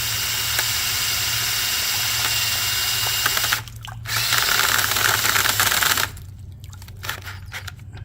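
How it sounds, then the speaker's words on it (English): A power drill runs an outboard water pump, whirring steadily, cutting out briefly near the four-second mark, then resuming before dropping to a quieter hum with faint clicks. "This drill has more speed but less torque"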